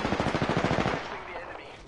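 Rapid automatic gunfire from a video game battle royale match, a fast burst of loud, evenly spaced shots for about a second, then fading into quieter background noise and faint game sounds.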